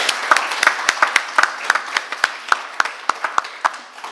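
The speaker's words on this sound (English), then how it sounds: "So please give them one more round of applause." An evening audience gives a round of applause for the staff and planning team, a fairly small crowd whose separate claps stand out as sharp, regularly spaced hits above a lighter patter.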